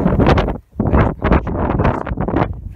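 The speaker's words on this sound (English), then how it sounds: "And I have to excuse the wind, it's quite windy here today." Strong wind gusts buffet the microphone outdoors in a garden, a loud, close, rumbling roar in uneven surges with one brief dip.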